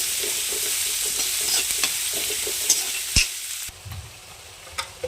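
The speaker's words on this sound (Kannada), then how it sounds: "ಈಗ ಕಟ್ ಮಾಡ್ಕೊಂಡಿರೋ ಈರುಳ್ಳಿ ಹಾಕೋಣ. ಇದನ್ನು ಒಂದು 1 ನಿಮಿಷ ಫ್ರೈ ಮಾಡ್ಕೊಂಡಿದ್ದೀನಿ." Chopped onions fry in a pan with a close, bright sizzle and brisk stirring scrapes and taps, then the sizzle suddenly drops to a quieter crackle with a few more scrapes.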